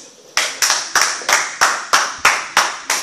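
A congregation at a church service claps in a steady rhythm, about nine sharp, loud clap bursts spaced evenly over a few seconds, with no talking.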